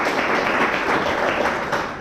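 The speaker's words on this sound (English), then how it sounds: "Round of applause for" Audience at an Azure cloud meetup in Chile applauding, a steady wash of many hands clapping at close range with no talk over it.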